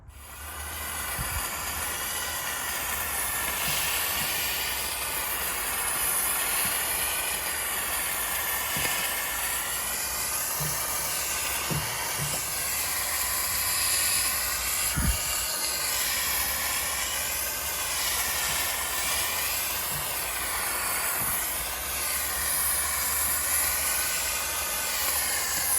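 A steam cleaner hisses steadily and continuously while removing window tint from a rear window with a demister, a broad close rushing hiss with occasional faint knocks and taps.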